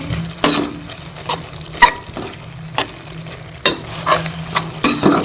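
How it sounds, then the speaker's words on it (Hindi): Spices for an egg katli masala fry in a pan under a low sizzle, punctuated by repeated scraping strokes and clinks of a spoon stirring against the pan, close and fairly loud. "मसालों को अच्छी तरह से हम भून लेंगे"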